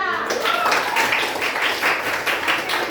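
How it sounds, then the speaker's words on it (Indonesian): Students in a classroom applaud a group after its presentation, a dense, steady wash of many hands clapping at close range that continues throughout. "tepuk tangan untuk kelompok apa?"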